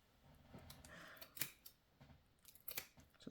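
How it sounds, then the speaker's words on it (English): Scissors snipping through a piece of fabric for a junk journal project, giving a few crisp, close cuts with short pauses between them, quiet overall and with no talking. "Cut a piece off from the fabric."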